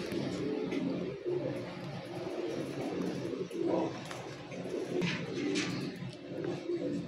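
Teddy baby pigeons, young chicks offered for sale in Lahore, give soft, low cooing sounds that repeat through a busy, murmuring background, close to the microphone with no talk over them.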